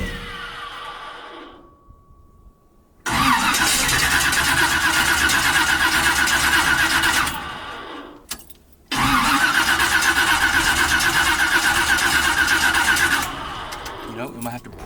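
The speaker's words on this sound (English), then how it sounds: "Let's go crank it and make sure this fills up with fuel, and we should have a healthy running motor again." Chevy 350 V8 engine that will not start after sitting parked, cranked over twice in long loud rhythmic starter bursts of several seconds each, separated by a short pause, with brief talk around the attempts.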